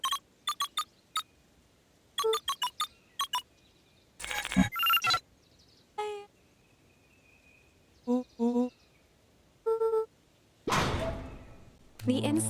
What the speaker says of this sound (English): entered the letters into the keypad